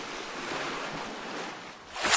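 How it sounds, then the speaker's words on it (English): A cartoon whale splashes in the sea, heard as a broad wash of surf-like water noise that rises and falls, then swells again in a bright burst at the end. "That splash was much bigger than the one Peppa made in the mermaid splash pool."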